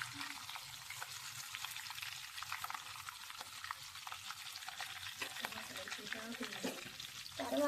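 Green chillies fry in a pan for Nellore-style fish curry, with a steady, quiet sizzle and occasional soft stirring taps throughout.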